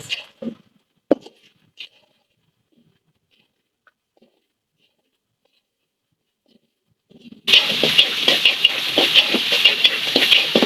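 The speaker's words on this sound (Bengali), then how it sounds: "পেস্টটা ভাজা হয়ে গেছে, একটু হালকা ভাজলাম" Onion, garlic and green chili paste fries in a pan for dried fish curry, after a few scattered clinks, a sudden loud, dense sizzle erupts and continues close up with no talking.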